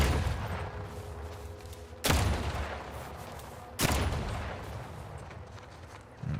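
Two loud gunshots from the video game Outer Worlds 2, fired at mines, each a sharp blast spaced about two seconds apart with a decaying tail, and no talking.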